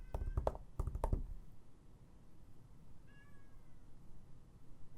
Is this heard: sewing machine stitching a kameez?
no